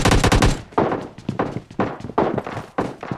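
Rapid, loud, booming shots from an S12 shotgun in the game PUBG Mobile Lite, fired in a quick uneven series of heavy blasts, each with a short decay.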